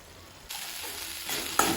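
Tapioca noodles stirred and cooked in a pan on low heat, with a soft sizzle and scraping stirs that grow louder midway and swell again near the end, close up with no talking.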